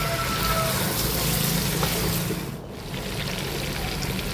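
Water being poured into a pan of potato chicken curry, a steady splashing pour that eases briefly then continues, close and fairly soft.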